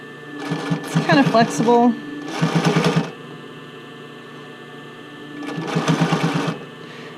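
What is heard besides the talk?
sewing machine sewing a bra fitting band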